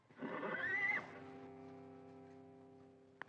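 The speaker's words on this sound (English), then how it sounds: "A horse." A horse lets out a loud, rising whinny that peaks and then trails off into a long, wavering fade, with a faint click at the end.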